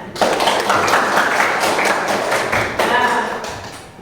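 A classroom of photography students claps for a classmate, a dense patter of hand claps filling the room at close range, with murmuring voices underneath, fading slightly toward the end.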